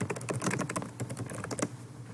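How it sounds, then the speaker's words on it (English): Rapid clicking of computer keys typing a short entry, close and fairly quiet, with no talking. "And then I have to type something here."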